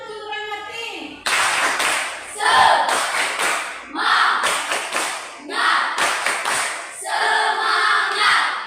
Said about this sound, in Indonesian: Tepuk semangat untuk Roy Martin.